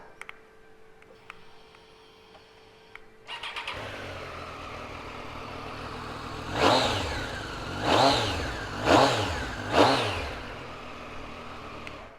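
A 2018 Triumph Street Triple 765 RS three-cylinder motorcycle cranks and catches after a quiet stretch, settles into a steady idle, then gets four sharp throttle blips that rise and fall back. It is close and loud, with no talking.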